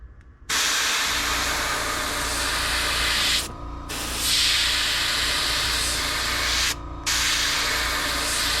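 An airbrush sprays crimson red paint onto the belly of a fishing lure, giving a steady close hiss in three long bursts separated by short pauses.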